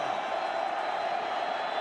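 Stadium crowd at a Montana State vs Montana college football game, a steady loud roar of cheering and crowd noise filling the whole moment without a break.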